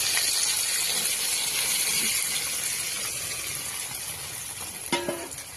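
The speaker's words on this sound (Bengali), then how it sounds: "চলো এবার জলটা আমি দিয়ে দিই।" Water poured into cooking meat erupts into a bright hissing sizzle that slowly dies down, ending with a faint clink of utensils.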